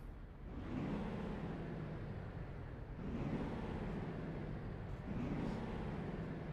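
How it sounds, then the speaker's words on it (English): Volvo truck engine in the TruckersMP driving game, a steady low rumble rising and falling in three swells as the engine revs and shifts, heard alone and fairly close. "That's a better sounding truck than that Scania."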